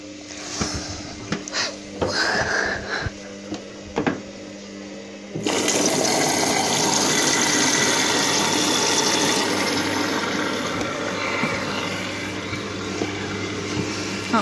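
A washing machine on its first rinse: a few quiet knocks and clicks, then water suddenly gushes in and keeps up a loud, steady rushing fill over a low mechanical hum, no speech.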